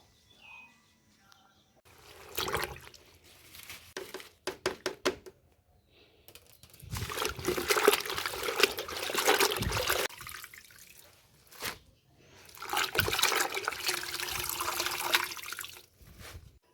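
Chopped mixed leafy greens (five kinds of field-picked greens) are washed in water, splashing and sloshing in several bursts separated by short pauses, close and fairly loud, with no talking.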